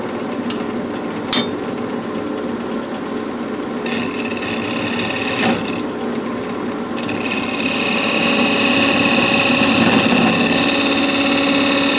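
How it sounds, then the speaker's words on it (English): A hand scraper works the surface of a wooden bowl made of compound staves, giving a continuous close rasping scrape that grows slightly louder toward the end. "Just give it a little bit of scrape with a scraper."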